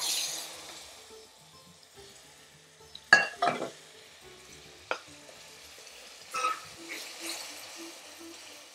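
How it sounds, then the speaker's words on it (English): Base gravy is ladled into an Indian restaurant-style curry in a pan, giving a soft, low sizzle with a few brief splashing and scraping bursts partway through; quiet overall, with no talking. "I'm going to add a full ladle of base gravy"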